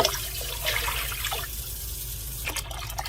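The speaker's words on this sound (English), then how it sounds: "so I'm going to put some more water in here" Water poured into a crock pot while canning mock salted caramel, a steady splashing and filling sound at low level, fairly close.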